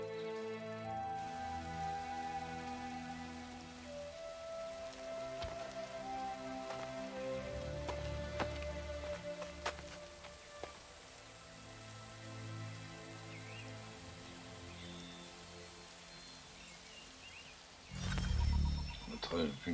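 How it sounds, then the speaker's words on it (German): Steady rain patters and hisses in Assassin's Creed III under sustained game music tones, with a louder low rumble swelling near the end. "Dann noch an zu regnen."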